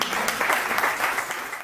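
An audience at a school inauguration claps briefly for a town hall representative, a steady wash of applause that tapers slightly at the end.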